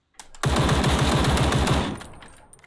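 Rapid automatic gunfire in the game Ring of Elysium, a loud close burst of fast repeated shots lasting over a second, then a short fading tail.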